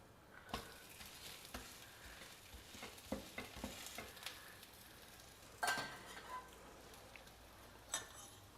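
A methi adai dosa sizzles faintly in a pan after being flipped, a soft continuous frying hiss broken by a few scraping and clinking touches of a spatula, close and quiet, with no talking.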